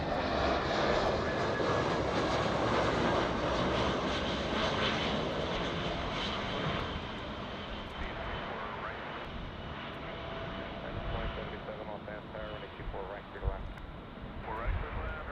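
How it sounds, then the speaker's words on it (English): Airliner touching down at LAX, its broad engine roar loud and steady through the landing and easing slightly partway, with a commentator's voice talking over it. "There's the touchdown."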